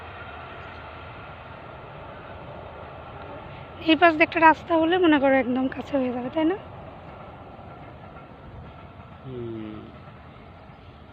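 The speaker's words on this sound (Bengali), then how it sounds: "ট্রেন যাচ্ছে ট্রেন যাচ্ছে এই যে ট্রেন" A train passes at a distance with a steady low rumble and rail noise that carries through the clip, while a person talks briefly over it midway.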